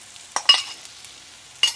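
Chicken curry with oil separating is stirred in a pan just before coconut goes in, giving a few brief scraping strokes over a soft sizzle, close and fairly loud, with no talk.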